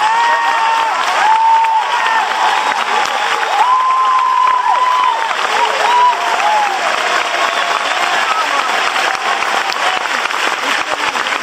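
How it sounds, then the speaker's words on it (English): A large crowd at a high school graduation ceremony applauds steadily and loudly for several seconds, with a few cheers and voices mixed into the clapping. "let's give them all a round of applause"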